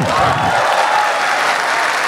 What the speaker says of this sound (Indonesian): tepuk tangan buat Nuri